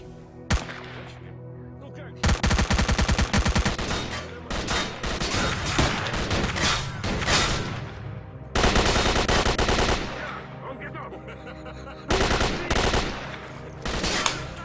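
Gunfire firefight in the video game S.T.A.L.K.E.R. Call of Pripyat: loud bursts of automatic rifle fire and scattered single shots come in clusters over about fifteen seconds, with brief quieter gaps.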